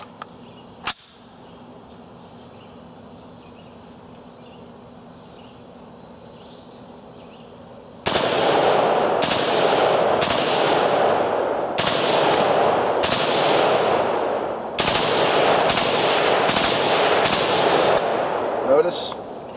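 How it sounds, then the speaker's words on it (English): A SAR-80 rifle fires a string of loud, rapid bursts that empty the magazine, each burst followed by a short ringing decay, and a single sharp report comes first, after a stretch of quiet outdoor hiss. "I'll just burst off the magazine."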